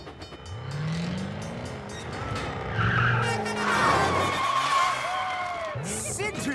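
An animated train engine skids and spins around in a full circle, with squealing, sliding tire-like screeches and rumbling motion. Excited voices and music play over it.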